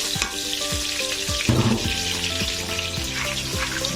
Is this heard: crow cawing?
no